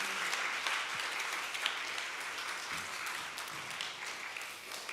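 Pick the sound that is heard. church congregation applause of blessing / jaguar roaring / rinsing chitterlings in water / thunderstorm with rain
church congregation applause of blessing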